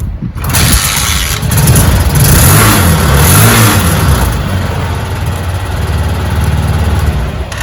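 A 200cc three-wheeler engine kick-started and then running, a loud, steady mid-pitched engine drone that holds for the whole stretch after a brief start at the opening.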